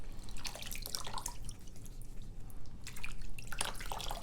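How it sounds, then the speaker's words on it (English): Irregular water drips and small splashes in a sink while an orchid is washed, close and moderately quiet, coming in clustered bursts with brief lulls. "And now I'm almost finishing washing this orchid. Do you see the water, how it's dirty?"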